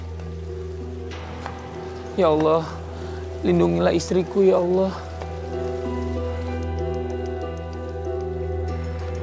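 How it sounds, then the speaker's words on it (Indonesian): Steady rain falls at night, a constant wash running under a low electrical hum, while someone speaks in short bursts over it. "Udah mana hujan lagi?"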